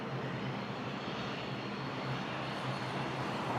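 A large airliner roars steadily on a runway at Toronto Pearson Airport, a loud broadband engine rumble holding constant and fairly near throughout.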